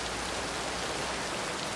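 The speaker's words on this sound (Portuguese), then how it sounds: "É que tá chovendo." Rain falls in a steady, even hiss, a dense broadband wash of drops at moderate level, continuous and unbroken with no voices over it.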